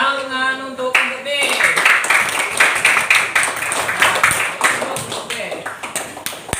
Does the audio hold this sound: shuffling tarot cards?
no